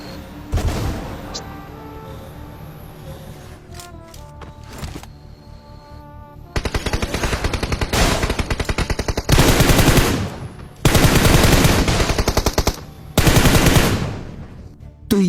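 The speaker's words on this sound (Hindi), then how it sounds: "अंदर से गोलियां चलने की आवाज आई" Bursts of rapid automatic gunfire from a video game, several sustained volleys with short gaps, preceded by a few scattered single shots over low background noise.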